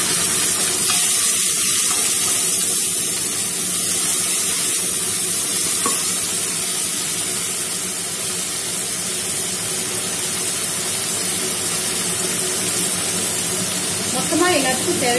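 Tomatoes sizzle and crackle steadily in a hot frying pan while being stirred, a close, loud, continuous hiss with occasional scraping of the spatula.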